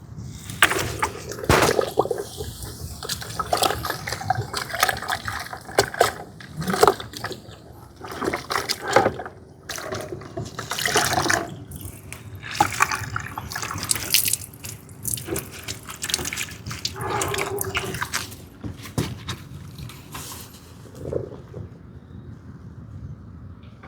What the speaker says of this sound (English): after each panel, you want to go ahead and rinse it off in the other bucket